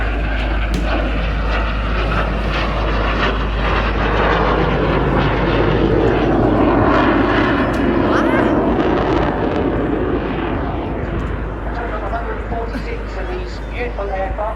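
A BAC Strikemaster jet trainer flies at the Southport airshow, a loud steady engine roar that swells and fades, with an announcer talking over it throughout.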